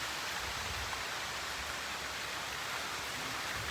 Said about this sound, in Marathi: पाऊस आला जोरात